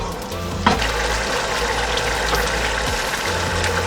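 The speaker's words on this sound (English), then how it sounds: "We're gonna cook the yogurt with the sauce" Yogurt cooking into a pomfret fish curry sauce in a pan, giving a steady close bubbling sizzle throughout with a brief clink of a utensil near the start.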